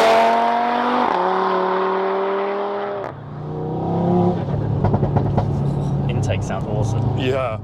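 A 550 BHP Stage 2 Audi TT RS with an open cone intake revs hard, its engine note climbing and falling loud and close, then dropping to a rough idle as someone talks over it.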